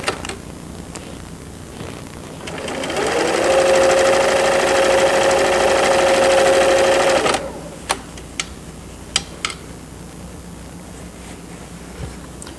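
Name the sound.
sewing machine stitching trouser waistband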